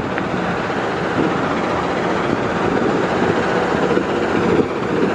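A CC206 diesel locomotive pulls a freight train past a station in a loud, steady, continuous rumble with rolling wheel noise throughout, close by and unbroken, with no one speaking.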